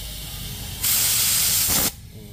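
Soapy water sprayed from a spray bottle onto a welded motorcycle radiator on a Raider 150 FI being leak-tested, one loud continuous hiss of about a second, close by over quiet background.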